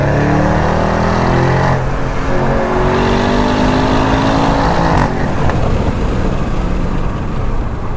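An Audi RS6 with a Milltek exhaust accelerates hard, its engine note climbing in pitch through rising revs, then dropping and climbing again after a gear change, loud and continuous over road and wind roar.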